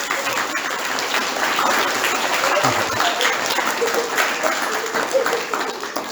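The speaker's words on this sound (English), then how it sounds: "can we give the parents and carers who've come today a big round of applause?" A large audience of parents and carers applauds steadily at a school music concert, a dense wash of clapping that holds for several seconds with faint crowd murmur.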